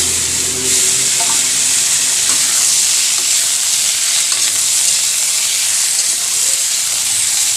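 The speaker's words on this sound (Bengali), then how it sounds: "এবার আমি কড়াই দিয়ে দিচ্ছি পাঁচ ফোড়ন পাঁচ ফোড়নটা ভাজা ভাজা হয়ে গেলে" Panch phoron spices crackle and sizzle in hot oil in a wok, a loud, close, continuous frying hiss with faint pops and no talking throughout.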